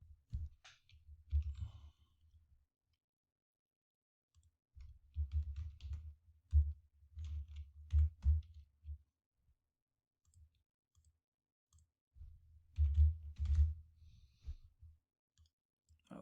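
Keys clack on a computer keyboard in short, quiet bursts of typing separated by pauses, faint and close, with no one talking.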